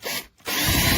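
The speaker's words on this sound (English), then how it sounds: "we're going to drill a hole first in the center" A power drill whirs loudly drilling a hole in the center of a 7.5-inch support, cuts out briefly for a split second, then spins up again and keeps running steadily.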